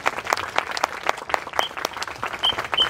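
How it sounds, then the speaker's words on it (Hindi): Schoolchildren clapping for a CISF weapons drill at a Republic Day event, a steady patter of many hands applauding for a few seconds, with a few faint high whistles mixed in. "बच्चों से निवेदन है कि ताली बजाइए और हमारे जवानों का हौसला आजमाइश कीजिए।"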